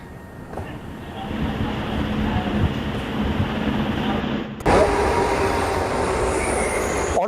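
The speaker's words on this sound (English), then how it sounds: "at the Sion railway station, which is exactly where we are at the platform number 1 right behind me" A train moves along platform 1 at Sion railway station in Mumbai, a loud rumble of rolling wheels with metallic squeal, swelling sharply about two-thirds through as it nears, with faint crowd noise beneath.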